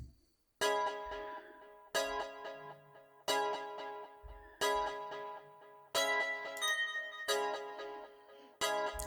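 Preset synth chord layer with reverb strikes a series of rich, bright chords at a steady slow pulse, roughly every 1.3 seconds, each stab ringing out and fading before the next, close and unaccompanied.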